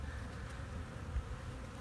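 Honey bees fly around an open, docile hive, a dense steady buzzing close by with no voices, constant in level for the short stretch.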